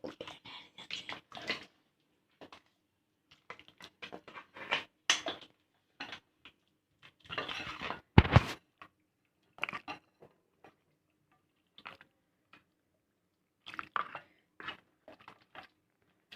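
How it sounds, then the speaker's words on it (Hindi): Cooked beef trotters (paye) are served into a dish in a quiet kitchen, with scattered wet squelches, soft clinks and one sharper knock of the serving spoon spread across the stretch. "अब इसको मैं डिश आउट कर रही हूँ।"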